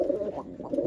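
A single short, soft coo comes from a burnt-face flying pigeon, heard close up and alone.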